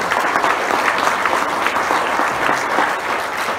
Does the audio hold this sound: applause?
yes